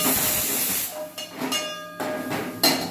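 Chopped onions with salt and a little ginger cooking in a covered pan, giving a steady loud sizzling hiss that swells and fades in bursts, alone without talk.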